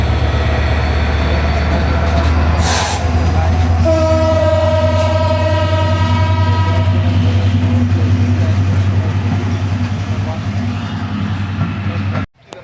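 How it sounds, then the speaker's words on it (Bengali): A train passes at Joypurhat railway station with a loud, continuous rumble and rolling clatter, a sustained horn blast partway through, and a brief hiss before the noise cuts off. "দেখতে পাচ্ছেন গাইস তো ট্রেন মাত্র যাচ্ছে।"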